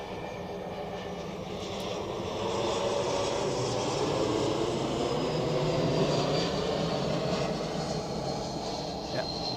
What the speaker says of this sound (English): The Swiss A220 from Hamburg.